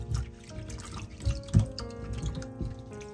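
Running water splashes and drips while vegetables such as onions and potatoes are washed with scallop shell powder. Close, continuous trickling and patters with small splashes, and no talk.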